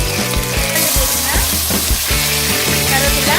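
Garlic and onion frying in oil for a Chettinad fish curry sizzle loudly and continuously, close up, with stirring clatter and bursts of crackle.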